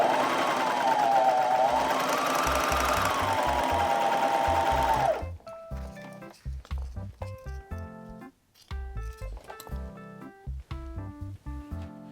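A serger overlock sewing machine stitching and trimming denim with its cutting blade, a loud continuous whirring run for about five seconds, then short stop-start bursts of stitching close by.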